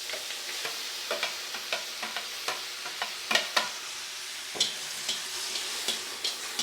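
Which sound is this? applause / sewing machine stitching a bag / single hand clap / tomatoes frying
tomatoes frying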